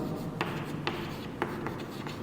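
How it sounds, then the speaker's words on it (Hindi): Chalk or marker writing on a classroom board, with faint scratchy strokes and a few short taps spaced about half a second apart over a steady low room hum, no voices. "चलो मैं लिख ही देता हूं।"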